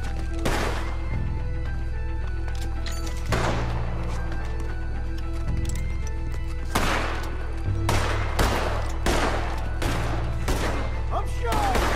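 Rapid gunfire from a Red Dead Redemption 2 shootout, a steady stream of sharp, loud shots and booming blasts over a low rumble, with a voice calling out briefly amid the firing.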